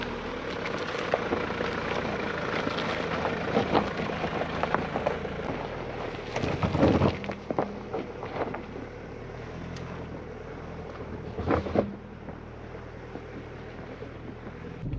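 Mazda car climbing a dirt campsite road, a steady rumble of engine and tyres on gravel with wind buffeting, plus a couple of louder bumps and knocks, heard close without any talking.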